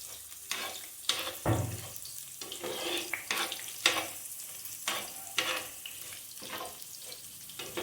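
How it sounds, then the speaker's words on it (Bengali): Gobindobhog rice lightly fried in a pan on a gas stove, a steady sizzle broken by repeated scraping and stirring strokes, close and fairly loud, with no talk. "আর একটা গ্যাসে আমি গোবিন্দভোগ চালগুলো হালকা একটু ফ্রাই করে নিচ্ছি।"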